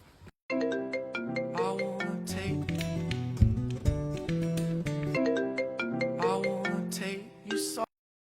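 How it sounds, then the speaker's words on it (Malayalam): A phone ringtone plays a bright, melodic electronic tune for several seconds, then stops abruptly. "എന്താ ഫോൺ എടുക്കാത്ത? ആര് വിളിക്കണ?"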